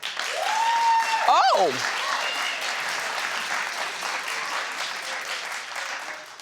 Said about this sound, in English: clap if you know it.